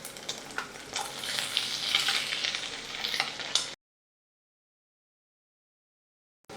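Vegetables stir-fry with prawns in a hot pan, giving a close, lively sizzle with crackling bursts as they are tossed, then cutting off into silence.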